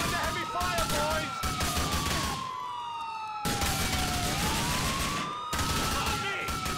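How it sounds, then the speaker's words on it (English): Gunfire crackles in Grand Theft Auto IV alongside a wailing police siren that sweeps up and down, with bursts breaking off and resuming across several seconds of chaotic street action. "I'm under heavy fire, boys."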